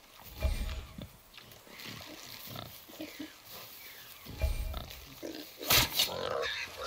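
A boar in the God of War video game grunts and snorts in repeated short bursts, close and fairly loud, mixed with game ambience and a sharp hit near the end.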